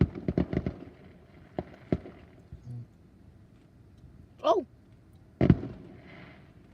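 Fireworks going off over the Ocean City inlet in Maryland, a rapid cluster of sharp bangs at the start, a few scattered single booms later and one heavy blast near the end, with a brief voice and a whistling rise in between.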